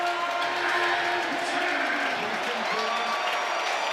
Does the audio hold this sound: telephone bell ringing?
no